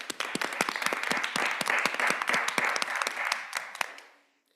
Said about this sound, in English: So I wanted to give him a huge, big round of applause.